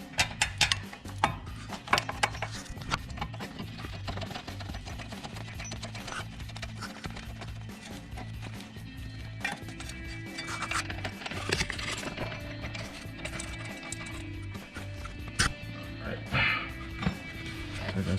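Socket wrench ratcheting on 17 mm brake bolts of a 2011-2017 Kia Optima, a run of close mechanical clicks and clacks, fairly faint, with low talk in the background.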